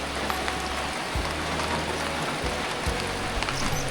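Steady rain hisses down outdoors in hilly Lao countryside near green rice fields, a dense continuous wash with a low rumble underneath and no voices.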